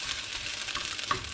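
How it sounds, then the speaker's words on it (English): Noodles frying in a frying pan glazed with a little oil, giving a steady, close sizzle and crackle with a few sharper pops and no voices. "spread your noodles out all around the frying pan"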